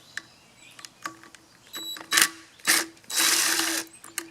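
A Torx bit backs out the small fuel tank screws on a mini two-cycle tiller, giving close ratcheting clicks followed by louder grinding bursts of the driver turning.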